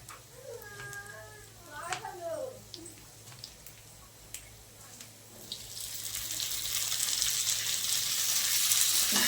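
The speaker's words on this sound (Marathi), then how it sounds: "बघा, कांदा लसूण, 1 टोमॅटो घालते." Onion, garlic and tomato hitting a hot pan, a soft hiss that swells into steady loud sizzling, with a person speaking over the first few seconds.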